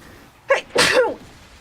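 A woman sneezes once, close by: a short sharp intake followed by a louder burst, with quiet room tone around it.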